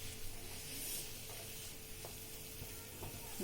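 Cashews, almonds and raisins roast in a pan, making a soft, steady sizzle with occasional light scrapes from stirring. No one speaks.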